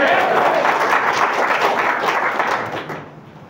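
Audience applause at an indoor talk program, a dense burst of many hands clapping together, loud and sustained before fading away at the end.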